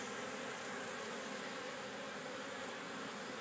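Honeybees swarm and land on a beekeeper in February, making a dense, unbroken buzzing drone that surrounds the listener, close and steady throughout with no voices.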